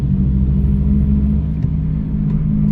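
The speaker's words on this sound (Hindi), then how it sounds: "तो समझ लो व्हील के बेरिंग की आवाज़ है" A Maruti Suzuki Alto 800 with a worn wheel bearing drones with a steady, loud low rumble and hum while driving, heard from inside the car with no talking.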